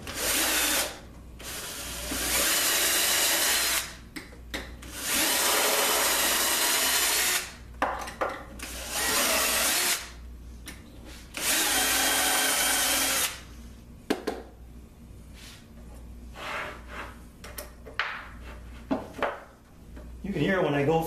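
A power tool cuts through plywood in long loud bursts, the pitch and texture shifting as the blade moves from flat grain into end grain, with quieter gaps, clicks and handling noise between passes.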